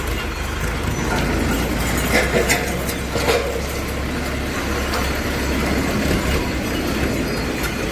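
Continuous rumble of a train passing a railway crossing nearby, with rattling wheels and occasional squeals, loud and steady throughout.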